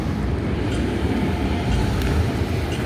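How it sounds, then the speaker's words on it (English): A Stockholm city tram rolls past on a street in central Stockholm in autumn, its steady rumble and rail noise loud and continuous throughout, with no voices. "This is the Kukel tram, which basically goes the route that I'll be walking on today's video."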